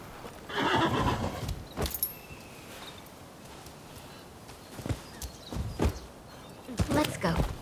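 A horse in the samurai-era video game Rise of the Ronin whinnies, with scattered hoof clops and footsteps against a soft ambient background, fairly faint overall.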